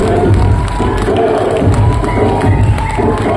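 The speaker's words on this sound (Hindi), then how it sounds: "क्या प्लीज हेलो करके सर का स्वागत करेंगे हम लोग जोरदार तालियों के साथ।" A workshop audience in a hall cheers and applauds a person coming onto the stage, loud crowd noise with shouts, thumps and clapping, close and continuous.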